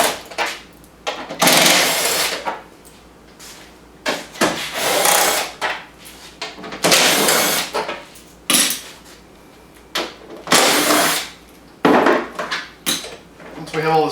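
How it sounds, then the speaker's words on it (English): Screws are removed from the bed of a Wildcat Sport with a T30 bit, in repeated loud bursts of a whirring driver separated by brief pauses and clinks of handling. "So then we can switch over to a T30 bit and remove the top screws."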